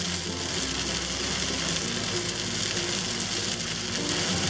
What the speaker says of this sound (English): we're gonna let this pan fry on one side until it becomes golden brown